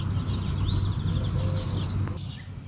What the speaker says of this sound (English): The birds continue their chorus, a gentle reminder that there is always music to be found